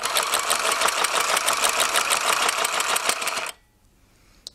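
A small children's sewing machine runs with a fast, steady mechanical whirring and clatter for about three and a half seconds, then stops abruptly, leaving near silence and one faint click.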